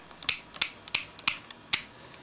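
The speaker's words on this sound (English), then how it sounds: "it makes this clicking sound, which we refer to as a Tix" A small plastic wheel in the base of an Attacktix Darth Vader figure gives five crisp, sharp clicks at uneven intervals, close and loud with nothing else heard.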